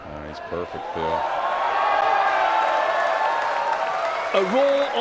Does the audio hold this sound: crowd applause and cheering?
yes